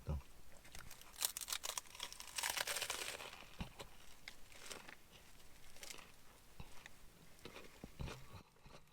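Crunchy potato chips flavoured like a Subway meatball sub being bitten and chewed close up, with crackly, irregular crunches and crinkles over several seconds and no talking.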